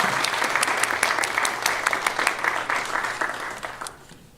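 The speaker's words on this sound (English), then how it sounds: "Please join me in a round of applause" A round of applause from the audience at a college Memorial Day ceremony, sustained, dense clapping from many hands, steady at moderate distance before tapering off near the end.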